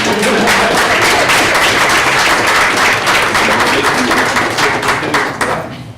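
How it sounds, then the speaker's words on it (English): Sustained applause from a group of people at a school district regular board meeting, steady and fairly loud for several seconds before tapering off at the end. "We can clap for them"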